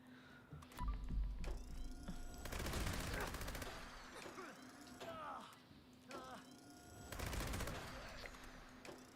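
Gunfire in the video game Fallout 76 comes in loud automatic bursts, two dense volleys separated by scattered single shots and mechanical clicks, set against a steady low in-game hum.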